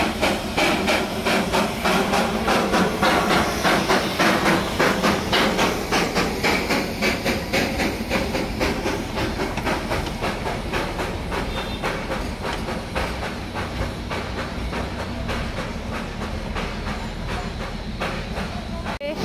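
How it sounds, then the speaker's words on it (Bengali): The Darjeeling steam toy train pulls away from the station, its rhythmic clatter and chugging holding steady and fairly close, with background voices of people nearby. "বলতে না বলতে নেক্সট ট্রিপের ট্রেন ছেড়েও দিল আবার।"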